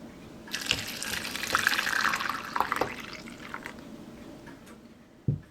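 Hot water runs steadily from a tap into a sink for soapy water, splashing and trickling for several seconds before a brief clunk at the end.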